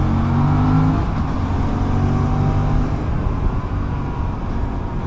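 A BMW 3 Series car drives past on a road, its engine a steady, fairly loud low rumble and whir that holds throughout with no talking.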